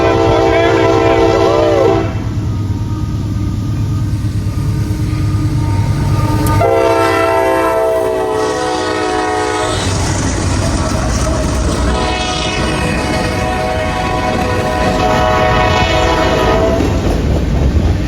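Freight train 15T passes near Whitesburg, Tennessee, led by Tennessee, Alabama and Georgia heritage locomotive 4851 with a second engine trailing. Loud, close horn blasts sound in long and short bursts over steady rumbling rail clatter.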